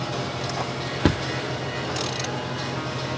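A ratchet snugs a bolt on a 2022 Subaru WRX during a pitch stop install, a short quiet clicking over steady background hiss with one clunk.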